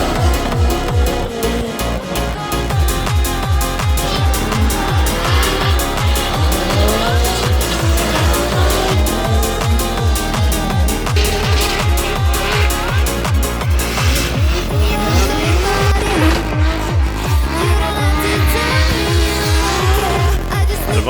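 Nissan S13 drifting trackside at a car show in Ireland: a loud, rhythmic engine note revving hard with continuous tire squeal, heard close up for the whole stretch.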